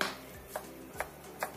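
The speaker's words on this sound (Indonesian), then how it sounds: "Kemudian mie yang sudah tiris ini kita cincang sampai halus" A knife chopping drained instant noodles finely by hand on a board, three crisp, evenly spaced taps about half a second apart over a low background hum.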